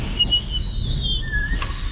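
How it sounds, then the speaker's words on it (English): A shop door whistles in strong, gusty wind, a thin sustained tone that wavers and shifts pitch for a couple of seconds over a low rumbling background. "That shop door is whistling over there."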